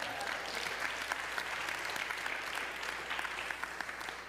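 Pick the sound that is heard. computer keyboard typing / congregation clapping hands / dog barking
congregation clapping hands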